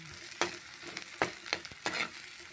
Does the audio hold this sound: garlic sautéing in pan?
yes